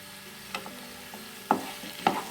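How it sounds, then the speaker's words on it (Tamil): Tomatoes being sautéed in oil in a pan, a soft sizzle broken by three or four distinct stirring scrapes and knocks, with no talking. "தக்காளி கூடவே சேர்த்து நல்லா வதக்கிக்கலாம்"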